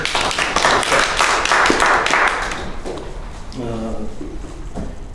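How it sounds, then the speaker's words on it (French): Applause breaks out at the 100th meeting of a small French-speaking speech club, a burst of hands clapping that fades after a few seconds as a voice begins talking. "Et je pense qu'il faut applaudir"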